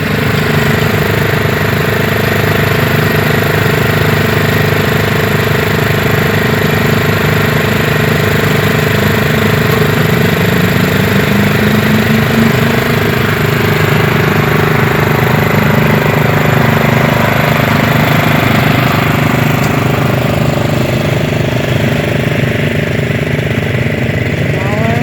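A garden tiller's engine runs steadily and loud for the whole stretch, a constant mid-pitched drone with little change in rhythm, while people talk faintly underneath.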